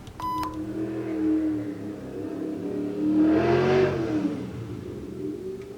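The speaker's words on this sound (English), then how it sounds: "I love when people drag race past my house." A car accelerating hard while drag racing past a house, its engine rising and swelling in two revving surges as it passes, heard from indoors after a brief electronic beep, with no talk.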